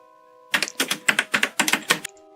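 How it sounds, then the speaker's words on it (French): Quick bursts of typing on a computer keyboard, several clustered runs of crisp key clacks close up, set against a faint steady hum that ends abruptly. "Tu arrêtes de taper sur ton clavier."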